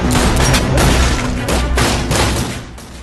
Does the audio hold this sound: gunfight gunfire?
yes